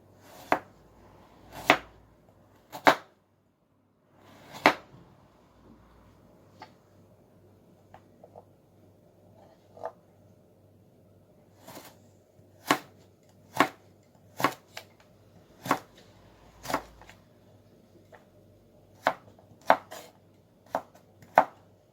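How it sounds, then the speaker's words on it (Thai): Sharp knife chops through carrot and daikon radish on a cutting board in irregular bursts, some single and some in quick runs, close and crisp with quiet pauses between. "เราก็จะมาหั่น แครอท หัวไชเท้าอะไรก่อนนะคะ"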